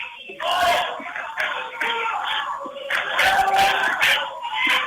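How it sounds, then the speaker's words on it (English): Home fans at a high school girls basketball game, Washington County against Wakefield, cheer loudly for a defensive stop, a sustained roar of shouts with rhythmic chanting bursts filling the gym. "Good crowd here from Washington, urging their girls on to a defensive stop"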